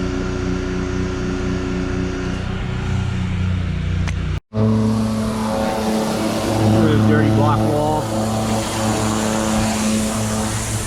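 A gas pressure washer engine runs steadily with a constant droning hum, loud and close, while people talk over it during Trex deck cleaning; it cuts out for a moment partway through.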